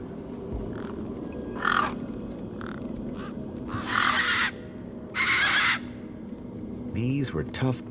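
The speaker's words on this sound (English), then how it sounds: "These were tough desert birds." Tough desert birds in a video game give repeated harsh squawks in short bursts, several loud ones spaced across the stretch, over a low rumbling ambient bed with faint voice-like sounds.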